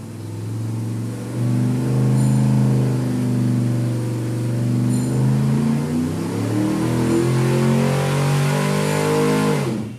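A circle-track racing engine runs on a test stand before delivery, a steady, loud, close mechanical drone that rises slightly in pitch as it revs, then cuts off at the end.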